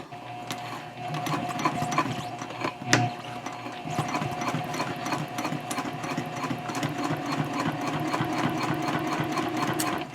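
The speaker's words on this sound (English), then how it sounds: "And I'm going to back stitch over it." A sewing machine back stitching a messenger handbag runs in a steady rapid mechanical patter, close and continuous for about ten seconds, with one brief clunk early on and no voices.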